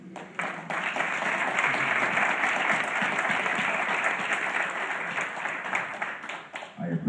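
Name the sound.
applause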